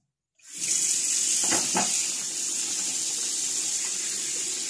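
A tap runs steadily, starting abruptly and flowing loud and close with a bright hiss and no pause, in a bathroom sink used for rinsing a reborn lifelike doll.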